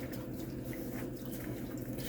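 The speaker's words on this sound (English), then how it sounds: "I just gently hand wash these out." Headset padding being gently hand washed in soapy water, soft continuous sloshing and squelching with faint drips, close by and steady, with no voices.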